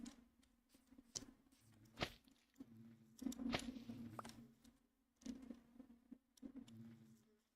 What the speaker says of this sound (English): Just a bunch of slime bees.